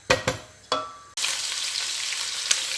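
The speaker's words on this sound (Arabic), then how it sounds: "خلوا الدجاج تاعنا يتقلى هكذا" Chicken pieces dropped into a hot pan with a few sharp clatters, then a steady loud sizzle of frying that continues alone at close range.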